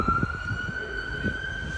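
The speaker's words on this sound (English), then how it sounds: "I'll let this ambulance cruise by." An ambulance siren wails steadily at a single sustained pitch as the vehicle cruises past on the street, holding fairly constant over low traffic rumble.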